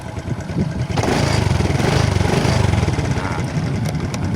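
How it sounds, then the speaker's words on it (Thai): A Honda Wave 125X motorcycle engine with no battery runs loud and close, revving up into a rough, sustained roar before easing slightly. "ได้เร่งเครื่องนิดนึงนะครับ"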